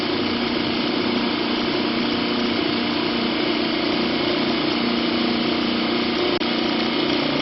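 An AC motor fed from a generator through an inverter runs with a loud, steady electrical whine and hum, unchanging throughout, with one brief click near the end.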